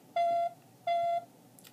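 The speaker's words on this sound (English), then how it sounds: "You have to have it set as your ringtone for your iPhone for it to ring like that in here" A Star Trek original series communicator ringtone plays through a Wand Company Bluetooth handset, giving two steady electronic tones about half a second apart, each a held buzzy beep at moderate volume with no talk.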